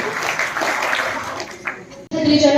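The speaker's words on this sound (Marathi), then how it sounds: "जोरात टाळ्या वाजवायच्या शिंदे साहेबांसाठी" Audience applause at a Marathi school function in Shirur, Pune, a dense wash of many hands clapping loudly and steadily, breaking off briefly before resuming even stronger.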